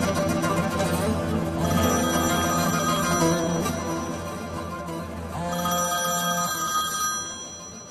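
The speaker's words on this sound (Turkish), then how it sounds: "Telefonun çaldı." A telephone rings in repeated bursts for several seconds, moderately quiet against a tonal background, with no speech.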